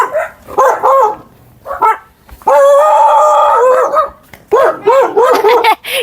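A dog barks loudly and close, in repeated yelping barks broken by a long, drawn-out howl.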